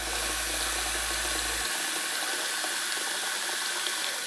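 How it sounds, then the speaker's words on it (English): Water pouring steadily onto potted garden plants in a small salsa garden, a continuous hissing splash with a low hum that cuts out partway through, near and unbroken. "we wanna go ahead and water these"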